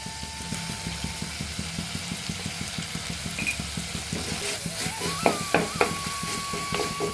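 Chopped tomatoes and onions, salted, are sautéed in a pan with steady rhythmic spatula scrapes over a constant low hum, a few sharper clacks standing out near the end.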